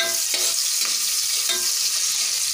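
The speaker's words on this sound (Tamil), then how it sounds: "அது வரைக்கும் நீங்கள் வதக்கிக்கிட்டே இருங்க." Onions, curry leaves and green chillies sautéing for mushroom biryani: a loud, dense, hissing sizzle close by, with soft periodic stirring scrapes running throughout.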